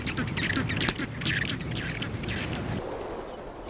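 Seabirds call on a rocky shoreline, with a dense chorus of overlapping raucous squawks and chatter from a crowded colony, fairly close and continuous.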